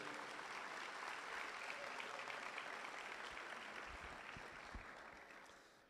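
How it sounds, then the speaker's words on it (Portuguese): A church congregation applauding during a Holy Communion service, a steady wash of clapping heard at a distance and fairly quiet, holding even before fading out at the end. "Dá uma salva de palmas então para o Senhor Jesus."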